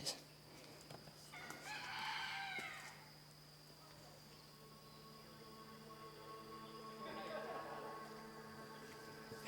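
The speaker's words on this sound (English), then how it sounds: "Besides the noisy roosters over there, we can hear birds all around us." Roosters crow twice in the Kauai highlands, each call a drawn-out cock-a-doodle-doo from a short distance, over faint ambient birdsong and steady low background noise in dense forest.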